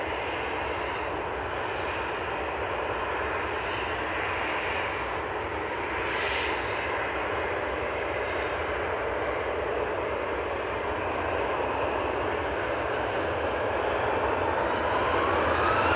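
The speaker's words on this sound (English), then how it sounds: "We've got Kuwait Airways just coming over the threshold as well from Kuwait City." A Kuwait Airways airliner crosses the runway threshold on landing at Manchester Airport. It produces a steady, moderately loud jet engine roar that holds for the whole stretch, with a faint whine rising near the end and no talking.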